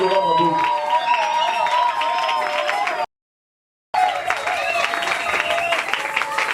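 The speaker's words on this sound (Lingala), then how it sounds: "Est-ce qu'on peut acclamer très fort, acclamer pour le roi d'Israël?" A church congregation cheering and applauding at a worship event, loud continuous clapping and shouting mixed with music, cut by a brief silent gap before the applause resumes just as strongly.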